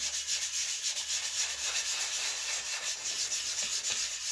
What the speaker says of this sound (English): Now it is all rubbed down, it's very light sanding.